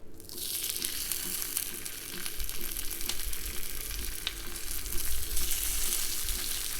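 Tuna steak fries in hot olive oil in a pan for a sesame tuna dish, a steady, close broadband sizzle that swells slightly partway through and runs without pause or talk.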